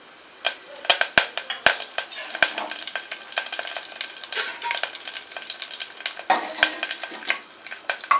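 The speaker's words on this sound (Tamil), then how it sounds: "இதில் போட்டது பொரிஞ்சிருச்சு." Bay leaf, fennel seeds and curry leaves crackle and pop in hot oil, a steady close-up sizzle broken by sharp spattering bursts and a few clinks of a stirring spoon.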